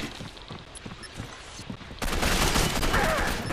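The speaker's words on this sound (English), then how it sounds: "machine gun ready." Heavy automatic gunfire bursts from a machine gun in the online shooter Gotham City Impostors, a dense loud spray of shots that thickens partway through, with no talk over it.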